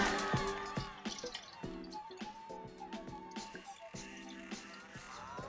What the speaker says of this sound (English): so I'm gonna hold it so it doesn't drip. It says 1 cup of water, so we're gonna fill it up to here with milk.